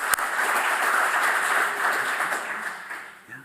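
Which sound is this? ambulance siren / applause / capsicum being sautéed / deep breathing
applause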